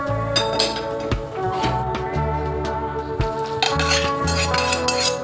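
A utensil stirs and scrapes ghee-fried cashews and almonds into horsegram flour for laddus, with repeated metallic clinks and scrapes against the pan, close and fairly loud, with no talking.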